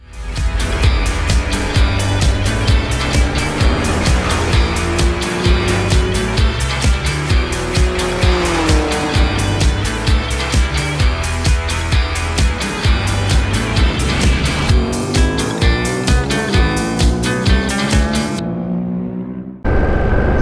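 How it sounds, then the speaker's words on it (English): A 2025 Ducati Panigale V2S motorcycle rides through busy town traffic, its engine revving loudly and continuously, rising and falling through the gears with steady throttle pulses before cutting off near the end. "So how does the Ducati Panigale V2S 2025 model ride in town?"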